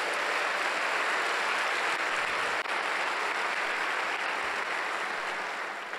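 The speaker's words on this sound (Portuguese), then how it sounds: "Pode aplaudir, o aplauso é para Ele." A church congregation at a Sunday service applauds in a continuous, dense wash of clapping, heard at moderate distance and holding steady without voices on top.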